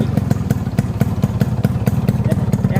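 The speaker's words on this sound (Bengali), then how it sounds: "ইঞ্জিনের সাউন্ডও খুবই সুন্দর আছে" A Yamaha RX 100 two-stroke motorcycle engine runs at a steady idle, close and loud, with an even rapid popping exhaust beat throughout.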